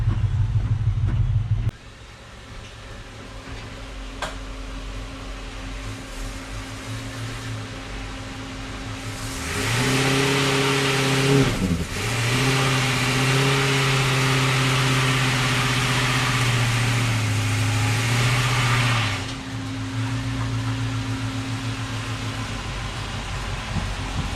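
A 1957 Chevy Bel Air needing a tune-up drives home, its rough-running engine a loud, constant drone from inside the car that revs up for several seconds, dips briefly, then settles back down.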